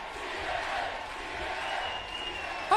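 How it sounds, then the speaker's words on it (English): A wrestling arena crowd roars in a sustained, broad wash of cheering and shouting during a TNA No Surrender 2006 event, with a sharper burst at the very end. "listen to this crowd, they love it!"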